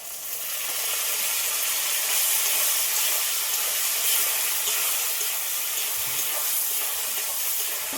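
Water poured into a hot pan of spices and fish, giving a loud, continuous hiss and steaming sizzle that swells quickly and stays strong, close and alone.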